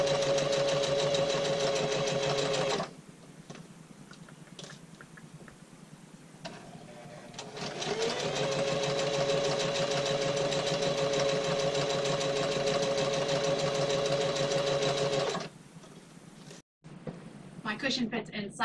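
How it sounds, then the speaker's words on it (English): A sewing machine runs steadily while stitching the pinned side seam of a settee-bed cushion cover aboard a sailboat, a loud continuous whir in two long bursts with a short pause between, then stops. "Got the side seam all pinned up and I'm about to sew it up"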